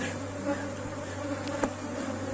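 Honeybee swarm buzzing steadily at an open hive during an inspection, a dense continuous drone close by with no talking.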